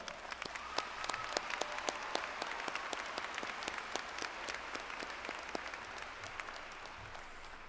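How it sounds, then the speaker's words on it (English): Applause at a University of Richmond law school commencement ceremony: a steady wash of many hands clapping from a large audience, with sharper individual claps standing out, sustained throughout at moderate distance. "A round of applause."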